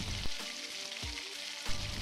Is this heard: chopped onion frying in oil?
yes